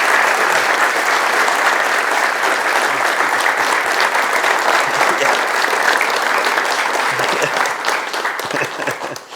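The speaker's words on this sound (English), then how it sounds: "So how about a round of applause for Mr." Sustained audience applause for Chris Gwinn at a talk on planning Pickett's Charge, dense steady clapping filling the room for about nine seconds before tapering slightly at the end.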